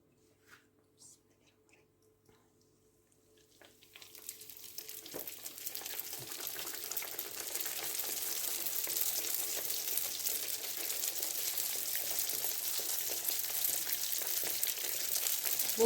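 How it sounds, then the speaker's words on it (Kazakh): Baursak dough frying in a pan of hot oil for Kurban Ait, a faint quiet start giving way after a few seconds to a steady, loud broadband sizzle that holds to the end. "Қазір енді жаңағы бауырсағымызды қуырамыз."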